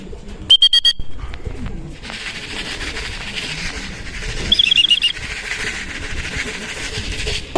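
Racing pigeons at a Cabuyao, Laguna training and pooling loft, a bird calling close by over steady outdoor background noise, with short bursts of sharp chirps and low murmuring voices mixed in.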